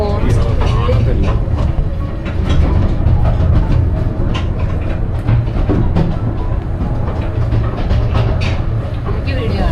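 A train moving along the track on a UK rail trip, its steady rumble and rhythmic clatter loud and continuous throughout, with people talking over it.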